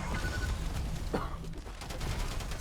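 Rapid machine gun fire in the arena shooter Diabotical during a tournament grand final, a fast stuttering burst of shots running across the whole stretch with a brief lull midway, loud and close.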